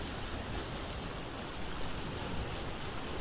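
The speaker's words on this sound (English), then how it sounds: "I'm kind of enjoying the rain and waves." Rain and ocean waves in Vintage Story wash together in a dense, even hiss that stays constant throughout, with no voices present.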